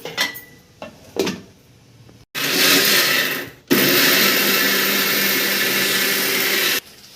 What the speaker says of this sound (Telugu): గ్రైండ్ చేసేద్దాం